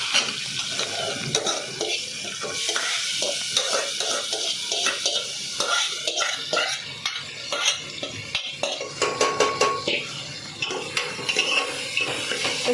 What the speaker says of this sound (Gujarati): પછી મિક્સ કરી દેવું આવી રીતના.